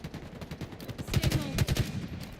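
Shock rifle fire in Halo during a pro league qualifier match, a rapid cluster of sharp bursts in quick succession, loud and close over faint background game noise.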